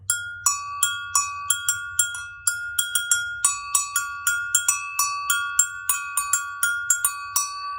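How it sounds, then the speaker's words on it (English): Two bells of slightly different pitch are struck with a wooden mallet repeatedly in a quick, uneven rhythm, each strike ringing clearly and briefly decaying, up close with nothing else. "We have to hit the bells with our mallet."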